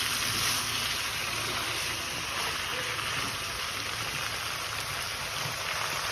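Duck meat and potatoes fry together in a pan for Assamese duck curry, giving a steady, close, hissing sizzle like heavy rain that holds evenly throughout, with no voices.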